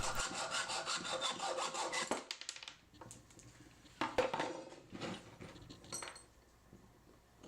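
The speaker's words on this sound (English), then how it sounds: "Cut the head off the bolt." A hand saw rasps back and forth through a steel bolt clamped in a bench vise, with quick close strokes, short pauses, then more bursts of cutting.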